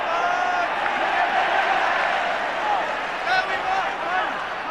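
A large rugby crowd at a 1991 World Cup quarter-final between Scotland and Western Samoa roars and cheers steadily throughout, a broad continuous wash of voices with a commentator speaking over it.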